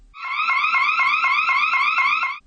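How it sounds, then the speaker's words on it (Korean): A loud scream-activated electronic alarm siren at a women's restroom wails in rapid repeating cycles, steady and close, with no voices. "곧바로 사이렌이 큰 소리로 울리고"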